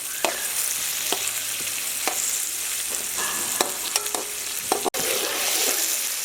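Onions fry in hot oil for Kabuli pulao, a steady bright sizzle broken by repeated scraping stirs of a spoon against the pot, close and continuous with no voices.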